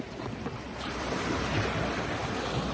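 Broadband wash of sea waves at the seashore, a steady continuous surf roar with gusty wind noise, moderately loud and unbroken, no voices.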